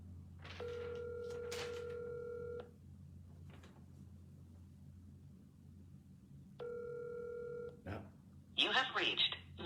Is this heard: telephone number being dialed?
yes